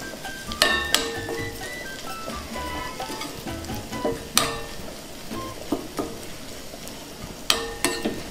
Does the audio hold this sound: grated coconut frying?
yes